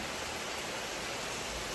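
Heavy rain pours down outside a house, with water streaming and spilling over the steps; a steady, dense broadband hiss fills the scene without pause, close and even, with no voices.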